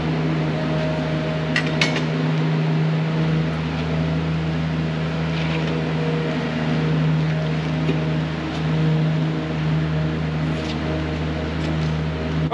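Pump sucking up leaked rainwater from overflowing tanks, a steady, loud mechanical drone with a low hum that holds constant throughout.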